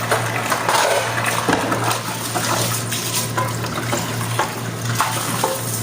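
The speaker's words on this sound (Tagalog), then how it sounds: "Mainit yung tubig galing sa gripo," Hot water runs steadily from a tap into a sink, a continuous splashing flow with a low hum underneath.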